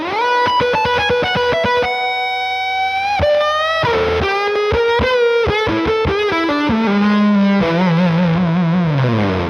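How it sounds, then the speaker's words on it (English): Electric guitar played through a fuzz pedal, loud and saturated, with a run of chugging staccato notes giving way to sustained, bending fuzzy lines and held chords, played alone without talk. "There's something so right and disgusting about a fuzz."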